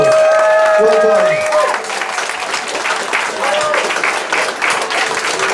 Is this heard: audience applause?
yes